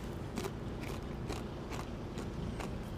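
Crisp, crunchy bites and chewing of a tortilla chip topped with spot prawn ceviche, a series of close, evenly spaced crunches with no talking.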